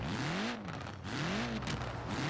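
Exhaust of a Volkswagen Golf in Forza Horizon 4, heard from behind the car: a loud, steady engine drone that swells and falls in pitch twice as the revs rise and drop, with no talk.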